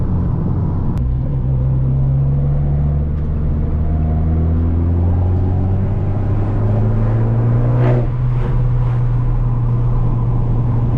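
A car pulls hard out of a corner, its engine droning loud and close with rising pitch as it accelerates, then easing with a quick shift and a few light clicks.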